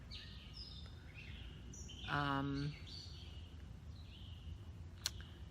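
Birds singing outdoors, faint scattered chirps and whistles in the background with one clearer tonal call in the middle, alongside a brief spoken word.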